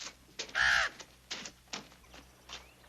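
A crow, let out of its cage indoors, gives several loud caws: one long harsh call followed by a few shorter ones spaced about half a second apart, with no talking.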